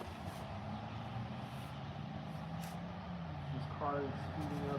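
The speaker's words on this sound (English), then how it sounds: "There's an engine sound right now." Low engine rumble of a vehicle running steadily throughout, with a brief rising tonal whine near the end.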